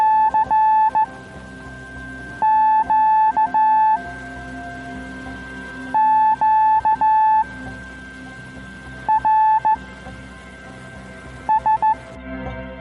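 Slow Morse code on the 80-metre amateur radio band: steady beeping dots and dashes in spaced groups over faint background hiss and a constant tone, no voices.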